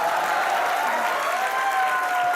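Studio audience applause on a Hindi TV comedy show, Comedy Nights With Kapil, a dense steady wash of clapping that fills the whole short stretch with no break.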